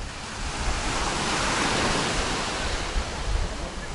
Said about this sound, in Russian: слушают звуки моря, что мы с вами тоже сейчас и сделаем